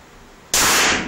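A single sharp, loud Glock 9x19 pistol shot cracks out of a quiet outdoor range, then decays over a fraction of a second.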